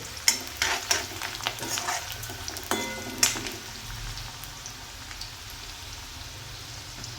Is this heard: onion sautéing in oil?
yes